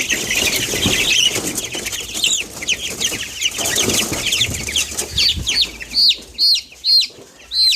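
Chickens cluck and squawk close by inside a poultry house, starting amid a busy coop clamor and ending in a run of loud, evenly spaced squawks.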